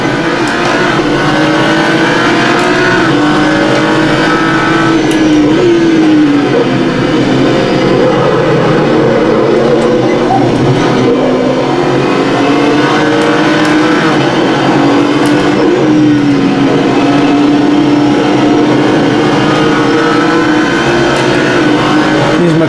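GT3 race cars, including McLarens, roar through the Barcelona circuit in the Assetto Corsa racing game, with loud continuous engine drone, rising and falling revs and gear shifts, and rival cars close behind.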